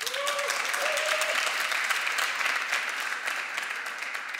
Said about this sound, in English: a big round of applause for Alexander Backus, please.